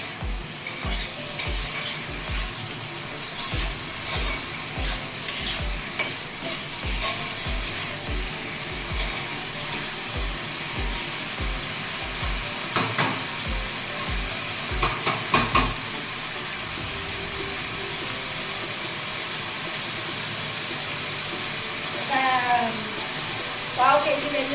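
Ivy gourd (tindora) with garlic, cumin and dried chili stirring and frying in a pan, steady sizzle with rhythmic scraping strokes of a spatula for about sixteen seconds, then quieter sizzling.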